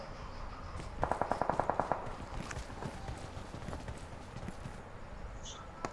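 Horse hooves galloping in a video game: a quick run of about eight rhythmic thuds early on, then a faint, busy game soundscape with scattered clicks.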